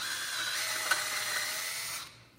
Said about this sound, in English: I'm just drilling a little hole.